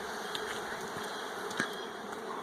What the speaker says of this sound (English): Curious bees.